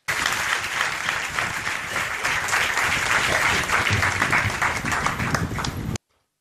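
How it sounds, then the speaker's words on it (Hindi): A church congregation breaks into sustained applause for the Lord, a dense, loud wash of many hands clapping that holds steady for about six seconds and then stops abruptly. "सब लोग प्रभु के लिए तालियां बजाएं"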